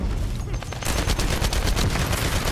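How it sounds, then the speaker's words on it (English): A grenade explodes in the video game The First Descendant, set off by the character Lepic: a loud, dense burst of blasts and crackling that runs unbroken for a couple of seconds with no voices over it. "That was Lepic's grenade"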